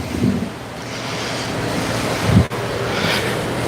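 Steady broadband hiss of heavy rain outside a forging workshop, continuous and fairly loud, with a brief low thump partway through.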